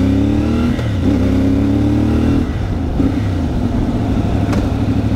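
CFMOTO 450MT adventure motorcycle ridden inside a factory lot, its engine revving up and down in rising and falling sweeps, close and loud, with no talk over it.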